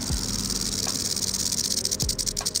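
A diamondback rattlesnake rattles close by, a steady, dry, high buzzing hiss that runs continuously with slight pulsing and no voices.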